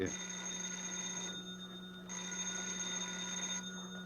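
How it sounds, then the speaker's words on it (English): A telephone bell rings with a steady, sustained electric tone that breaks off briefly and resumes, clear and fairly close in a quiet indoor room. "I'll get the phone"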